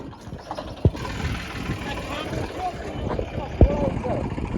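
A tractor engine idles and chugs steadily in a Gujarat farming simulator game, a low continuous rumble with a couple of sharp knocks standing out briefly.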